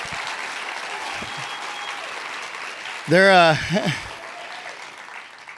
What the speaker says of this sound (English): can you guys please give a round of applause for my security detail here?